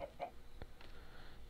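Chickens cluck in Minecraft, a few short clucks over a steady low game background hum.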